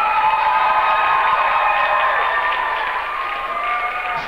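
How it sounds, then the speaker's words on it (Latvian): A talent-contest audience applauds the contestants, a dense, loud wash of clapping with a tonal ring over it that holds steady and eases slightly toward the end. "Sapuriniet viņus ar aplausiem"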